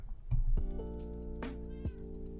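A cat meows twice in a video game, loud clear harmonic cries standing out over a steady background tone, with no talk.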